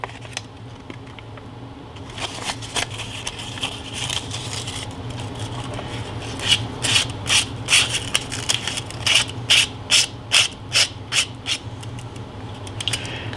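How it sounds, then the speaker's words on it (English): Fine 220-grit sandpaper rubbed over an HO scale model building, a run of quick scratchy strokes that grow louder and more rhythmic toward the end, close and with no talk. "if you find some spots that are just too heavily textured, just sand over it"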